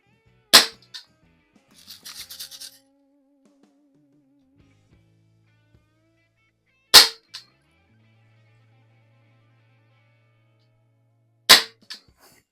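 A Healthways 175 BB pistol fires three sharp, well-spaced shots, each a crisp crack followed by a faint tick, with quiet handling noises in between.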